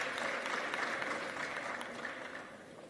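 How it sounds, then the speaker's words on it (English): Audience applause at a university keynote address at the University of Limpopo, steady and fairly distant, a dense wash of hand claps fading slightly toward the end with no speech over it. "I think you need to give this institution a round of applause."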